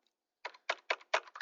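Keys clack on a computer keyboard in a quick run of five or six crisp, close strokes after a brief silence, with no voices.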